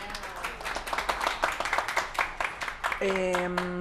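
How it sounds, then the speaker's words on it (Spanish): Applause and clapping from a class of students for their teacher in a library learning session, a steady patter of hands with a voice and tonal sound entering near the end. "Un aplauso para el profe."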